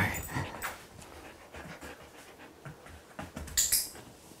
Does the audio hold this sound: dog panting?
yes